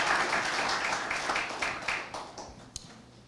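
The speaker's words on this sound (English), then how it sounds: "So another round of applause," Audience applause honoring men's health champions at a health summit, a dense crowd clapping that fades gradually over a few seconds, with a sharp single clap near the end.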